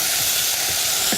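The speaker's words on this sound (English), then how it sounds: "So I just want frying and braising right away." Steady, loud sizzling of soup ingredients frying in a hot pan, a continuous bright hiss with no voices.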